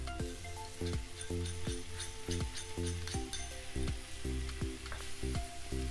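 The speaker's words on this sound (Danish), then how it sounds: "Rør det hele godt sammen og steg videre, så nudlerne er møre." Pad see ew noodles frying with sauce in a hot pan, a loud continuous sizzle with regular clanking strikes of a utensil stirring and tossing, close up and alone without talk.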